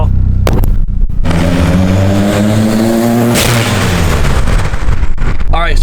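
A car engine running with its wastegate open and no downpipe fitted roars loud and close, revving hard and climbing in pitch, then dropping and rising again with a sharp crackle near the end.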